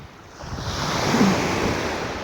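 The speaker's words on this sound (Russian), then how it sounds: "Нормальная, красивая природа, шикарное, спокойное море." Calm sea waves washing onto a beach at Marbella, Spain, a steady soft surf wash with a gentle swell in the middle, mixed with light wind noise and no talk.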